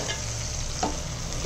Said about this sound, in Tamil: நல்லா கலந்து விட்டுட்டு ஒரு 30 செகண்ட்ஸ் இது வேகட்டும்